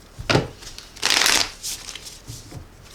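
Thick tarot cards are shuffled by hand, with a short riffle, then a longer louder burst of card rustling, followed by softer scattered shuffles close up.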